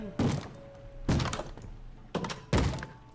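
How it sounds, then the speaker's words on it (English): A zombie pigman in Minecraft thumps on a wooden door, four heavy knocks in uneven pairs, close and fairly loud with no talk over them. "a zombie pigman just felt like banging on the door for some reason"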